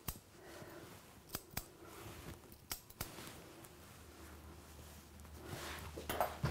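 A few sharp, close snips of small scissors trimming a dog's whiskers, spaced irregularly over a quiet background, followed by a low hum and faint rustling.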